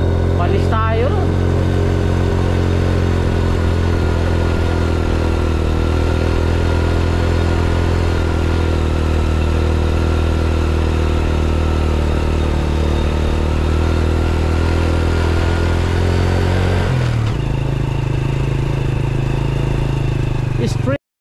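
Habal-habal motorcycle taxis in Bulacan run loudly and steadily up close, their mid-pitched engines droning and clattering for about seventeen seconds before the note shifts as one passes or changes gear. No one speaks.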